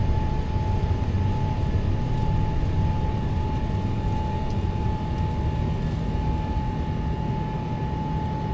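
Boeing 777 jet engines in the X-Plane 11 flight simulator roar at takeoff thrust, a constant dense drone with a thin steady whine on top and no voices.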